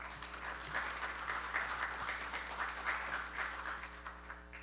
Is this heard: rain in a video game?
no